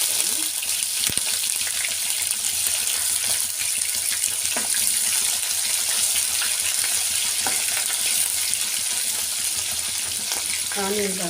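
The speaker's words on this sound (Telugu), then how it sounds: "ఆనియన్ కాసేపు వేగనిస్తాను." Onion frying in oil with mustard seeds and cumin for a pea kurma, a steady close hissing sizzle that continues without a break, with occasional faint clinks.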